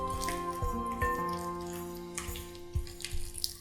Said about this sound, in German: Kochendes Wasser übergießen